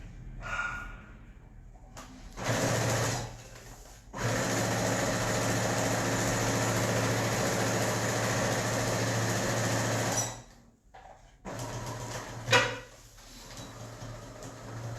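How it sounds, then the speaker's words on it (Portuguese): A sewing machine stitches forward and back to lock the end of a seam. The close motor whirr comes in several bursts, one short, one long and steady, then brief quick runs separated by pauses, with no talking. "Faço um vai e vem pra prender o final da costura também e tá pronto."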